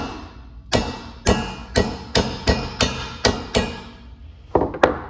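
A hammer taps a P-clamp on a TAB Performance 2-2 exhaust head pipe: about eight sharp metallic strikes in a steady, evenly spaced rhythm, then a pause and a quick final cluster of taps, all close and loud with no talking.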